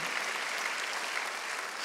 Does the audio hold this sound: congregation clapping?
yes